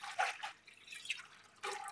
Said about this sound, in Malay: Kita letakkan air dulu.